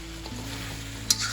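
Chicken frying in a pan with ground masala paste and chili powder for a spicy Andhra-style fry, a steady low sizzle with soft stirring and a brief sharper scrape near the end, no talk.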